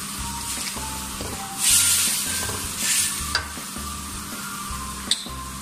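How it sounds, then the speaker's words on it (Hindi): Soy sauce poured over vegetable noodles in a hot pan, bringing a steady sizzle with repeated stirring and scraping scrapes and a couple of sharp utensil clicks, close and alone. "अब मैं इसमें सोया सॉस ऐड करूंगा, तकरीबन 1 सर्विंग स्पून के करीब"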